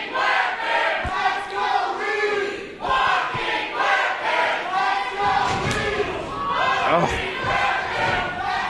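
Wrestling event crowd at an indoor show chanting and cheering in rhythmic waves, loud and close, with occasional thuds from the ring.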